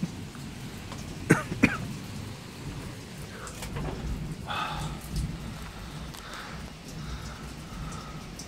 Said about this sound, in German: heute mal wieder Unwetter